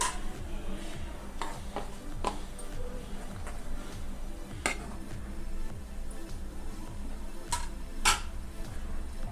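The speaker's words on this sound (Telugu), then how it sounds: "బాగా మరుగుతుంది సాంబారు." Sambar-style moong dal dalcha simmers in a pot with a soft, steady bubbling and faint popping, broken by occasional sharp ticks and clinks.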